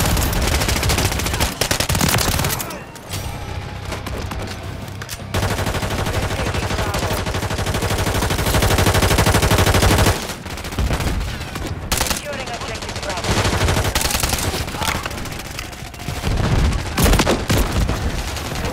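Shotgun and other gunfire in a Call of Duty match: loud, dense volleys of close shots in long bursts, broken by short lulls, with faint voices in the background.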